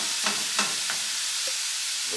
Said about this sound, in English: Frying up the meat, man. Butter looking good.